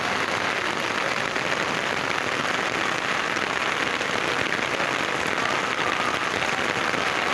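Heavy, intense rain pouring down in a steady, dense hiss that stays loud and unbroken throughout, with no voices over it.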